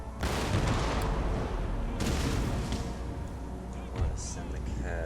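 Cannon artillery fire from a video game battle in a Spanish campaign, a steady rumble of booms and gunfire blasts with sharper reports near two and four seconds, continuous under a speaking voice.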